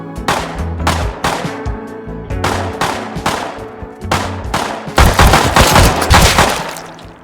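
Bursts of gunfire from the survival game Rust, with rapid automatic volleys and single shots repeating in clusters, growing denser and louder toward the end, with no talking.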